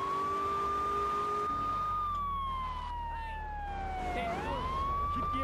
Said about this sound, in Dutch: Die sirene kan ik alleen niet uitzetten,